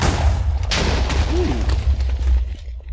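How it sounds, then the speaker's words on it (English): TNT set off by a tripwire trap in Minecraft bursts in a loud, dense blast that rolls on as a rumbling roar across the whole moment, with a brief sharp crack near the start. "Here's the tripwire trap, and then TNT explosion."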